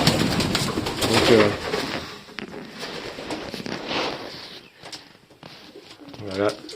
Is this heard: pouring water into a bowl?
no